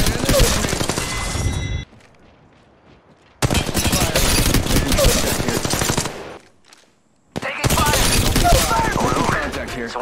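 Rapid automatic gunfire in the Apex Legends Mobile video game comes in three loud, close bursts of dense shots, split by short near-silent pauses.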